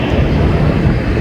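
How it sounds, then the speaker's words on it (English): An airplane flies over near Berlin airport, a loud, close, rumbling engine roar filling the whole short moment without talk. "I knew I heard a plane."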